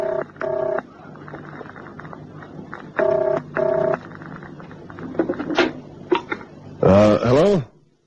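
A telephone in an old film rings in several short double bursts from a bell, followed by clicks and a brief whirring sound.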